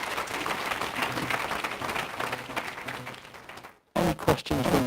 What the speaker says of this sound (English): A round of applause for Dan